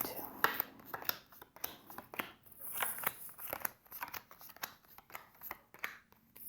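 Tarot and Lenormand cards are cut and handled close by, making a run of faint, quiet snaps, ticks and soft rustles in an irregular rhythm.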